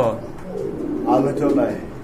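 Lahori pigeons, black and white with feathered feet, coo in low, swelling murmurs close by, partly under people talking.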